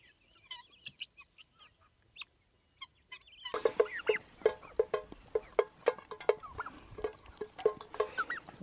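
A flock of farm guinea fowl clucking and chattering close by, sparse calls at first, then a dense run of rapid repeated squawks.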